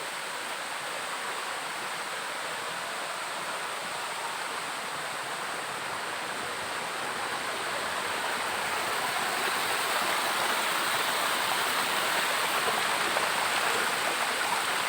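Apale Falls in Isabel, Leyte roars as a continuous broadband rush of falling water, steady and full, swelling slightly louder partway through, with no voices.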